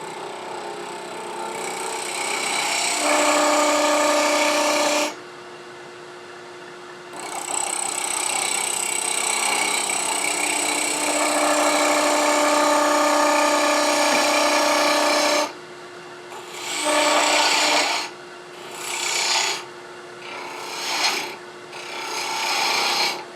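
A wood lathe spins a mini multi-axis pedestal bird house while a gouge cuts the wood. Loud, rasping shearing with steady tonal whine comes in long passes, pauses briefly, then breaks into shorter bursts of cutting.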